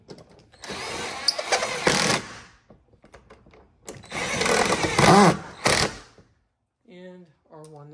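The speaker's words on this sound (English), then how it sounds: "Get our screws started." A power drill drives screws into a carbon fiber front grill on a C8 Corvette, with two close bursts of whirring motor lasting a couple of seconds each, followed by short ratcheting clicks.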